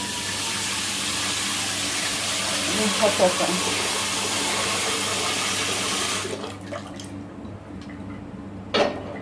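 Hot water runs steadily from a tap while a frozen turkey is washed, then shuts off, leaving a few faint drips and clunks.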